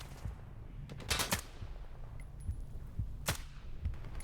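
Gunfire in the video game STALKER 2 during a firefight at Malachite: a few sharp shots, some in quick clusters and one later single crack, set against a steady low rumbling game ambience.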